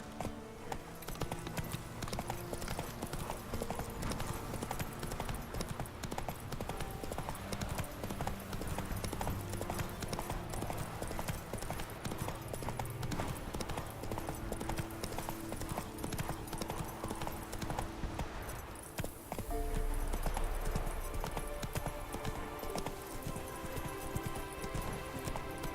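Roach, Geralt's horse in The Witcher 3: Wild Hunt, gallops with a steady rapid clip-clop of hooves throughout, loud and close, layered over game music and ambience, with a brief change in the texture near the end.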